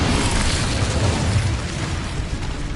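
Incendio fire spell cast in the Hogwarts Legacy video game: a loud, sustained fiery roar with a deep rumbling low end, steady and dense for nearly three seconds with no voices.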